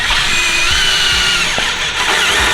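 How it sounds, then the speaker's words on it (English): Battery power drill boring holes into a car floor, a loud close high-pitched whine held steady for a few seconds with brief dips. "Let's drill some nice holes in my nice floor."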